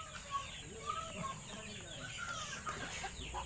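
Chickens cluck softly in the background on a poultry farm, scattered calls over a faint constant hiss, with a voice murmuring nearby.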